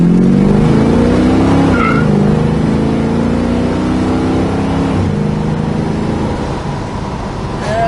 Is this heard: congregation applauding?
no